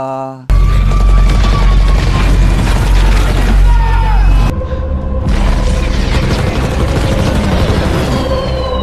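Loud, dense battle din from a film about a naval battle between America and Japan, with booming bombs and bursts of gunfire rumbling continuously, and a voice speaking over it.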